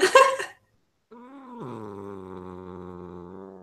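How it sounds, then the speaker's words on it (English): A pet cat gives a short breathy snort, pauses, then lets out a sustained low, throaty growl that drops in pitch and holds steady, close and fairly loud. "I love this weird snorting growl noise."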